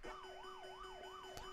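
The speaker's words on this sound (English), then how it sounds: "start sound Pac-Man extra life" Pac-Man extra-life jingle from the arcade video game: a rapidly warbling, siren-like electronic tone sweeping up and down in a steady repeating cycle, clean and isolated.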